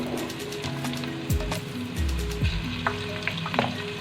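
Ginger garlic paste sizzling and frying among onions in a pan for vegetable fried rice, a steady crackling sizzle with occasional stirring scrapes, close and fairly loud throughout.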